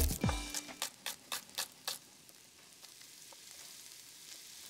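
Shallots dropped into a pan with vegetables, a burst of crackling at first then several sharp rhythmic taps of a utensil before settling into a faint, quiet sizzle.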